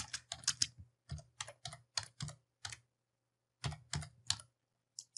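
Bursts of typing on a computer keyboard while entering a word in a document, quick clustered keystrokes in short runs separated by pauses, close and clear with no talking.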